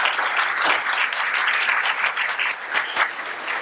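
Sustained audience applause at a mayoral candidates forum in Annapolis, dense steady clapping from a hall crowd with a few sharper claps standing out, with no talk over it.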